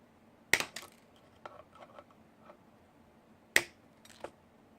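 Coil wire on a Wotofo Warrior RDA is snipped twice with cutters. Two sharp, close clicks land about three seconds apart, each followed by faint metallic ticks, in an otherwise quiet room.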